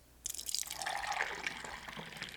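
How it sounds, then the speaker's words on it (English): Homemade natural liquid laundry detergent being poured into a measuring cup, a soft, close, steady trickling stream lasting a couple of seconds. "Now you're going to want to carefully pour the detergent"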